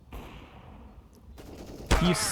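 Gunfire in Counter-Strike: Global Offensive during a competitive match, a faint quiet stretch followed by a sharp louder burst of shots near the end.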